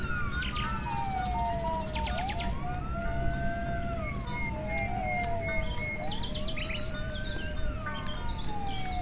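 An ambulance siren wails in repeated rising and falling sweeps, clear at mid-distance. Birds chirp and tweet in the background over steady outdoor noise near rice fields.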